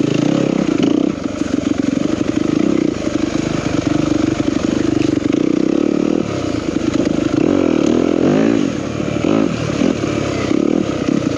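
A 2021 Yamaha YZ250FX four-stroke dirt bike is ridden close by. Its engine is loud and continuous, with the revs rising and falling as the throttle changes, and no one speaks.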